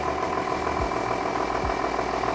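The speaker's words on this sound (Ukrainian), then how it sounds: "Дуже гарно і мелодійно звучить двигун в цьому тракторі." A John Deere 6610 tractor's diesel engine idles steadily up close, a continuous throbbing chug with no talking.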